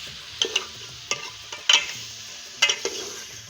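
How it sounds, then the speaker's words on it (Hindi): A spoon stirs carrots, potatoes and peas through spices in a pan, with soft scraping strokes and light clicks over a low sizzle, close by and with no talk. "गाजर, आलू, मटर मिक्स हो रहे हैं जी मसाले में"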